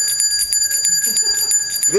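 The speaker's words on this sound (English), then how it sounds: "ringing the bell, the Salvation Army kettle" A handbell rung at a Salvation Army red kettle during a 2014 kettle campaign kickoff, its bright metallic clangs repeating steadily at close range over a low murmur of background activity.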